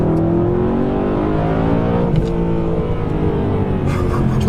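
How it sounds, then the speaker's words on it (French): A stage 1 BMW M3 E92 engine drones under sustained load from inside the car, with the tone climbing gradually as revs rise and a steady, loud roar throughout. "Quand tu montes vraiment dans les tours, quand tu dépasses les 5005, le bruit devient vachement aigu."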